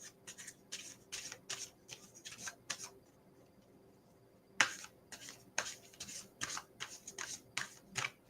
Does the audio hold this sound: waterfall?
no